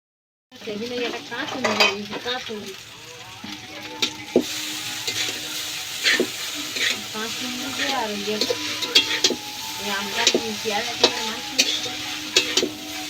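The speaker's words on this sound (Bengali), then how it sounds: "চিকেন চাউটা ভাজবে কেমন করে দেখুন" Chicken chow sizzling in a pan in a village kitchen while a spatula scrapes and tosses it in repeated strokes, metal clinks standing out over a steady frying hiss; close, no talking.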